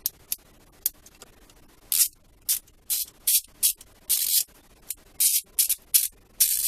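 Clicking of an EZ-RED MR482FL extendable ratchet, heard in a dozen short bursts of crisp, rapid ticks with brief silent gaps, close and fairly loud, no speech.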